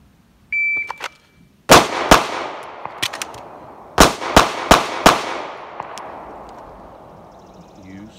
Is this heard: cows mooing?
no